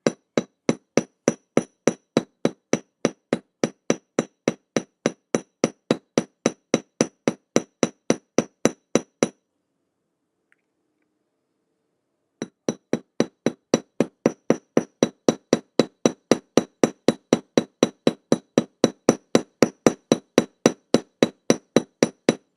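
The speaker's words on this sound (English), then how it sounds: "Slowly hammer the rivet down." Light hammer taps driving a rivet down on a bench block during jewelry making, a long steady series of sharp, evenly spaced metallic clicks, close, broken by a brief silent pause before the tapping resumes.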